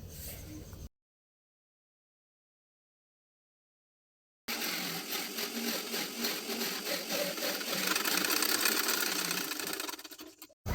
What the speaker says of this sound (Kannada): ಈಗ ಆರ್ಮೋಲ್ ಹತ್ರ ಇರೋ ಟಕ್ಸ್ನ ಸ್ಟಿಚ್ ಮಾಡ್ಕೊಳ್ಳೋಣ.